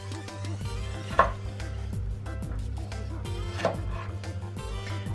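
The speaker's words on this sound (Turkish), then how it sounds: "Domateslerimi halka halka doğruyorum." Tomatoes sliced into rings with a knife on a board, a few close chops and taps heard over steady background music.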